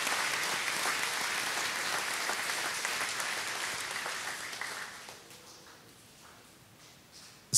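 A church congregation applauds volunteers at a trilingual Easter Vigil Mass, a dense, steady wash of clapping that holds loud for several seconds, then thins and fades toward the end.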